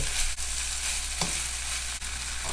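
A one-pot Middle Eastern-style meal with green chili and tomato sizzles steadily in a pan while it is stirred, close and continuous, with a few soft clinks and scrapes from the stirring.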